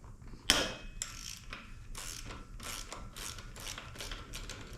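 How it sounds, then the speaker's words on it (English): Ratcheting wrench clicks in rapid bursts while the pinch bolt on a Harley Sportster is worked loose, a sharp metallic clank at the start followed by steady close, moderately loud ratchet runs. "have to remove the pinch bolt."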